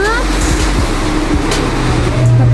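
A car passes close on Sanmin Road in Baojhong, Yunlin, Taiwan, a loud steady roadside rush of engine and tyre noise with no talking.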